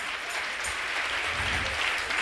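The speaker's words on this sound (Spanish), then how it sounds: "dele mejor el aplauso al Señor" Congregation applause during a church sermon, a dense, steady wash of clapping hands spread across a large room, continuing evenly without breaks.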